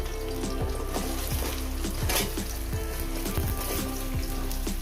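Pieces of mukhi kochu taro are dropped one by one into hot oil already seasoned with salt and turmeric, setting off a constant loud sizzle and bubbling crackle with small splashes.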